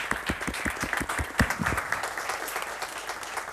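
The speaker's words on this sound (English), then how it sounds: "I want to applaud you, and maybe the audience can join me in thanking you very much." An audience at a youth panel discussion applauds steadily, a dense patter of many hands clapping indoors for a few seconds at moderate loudness.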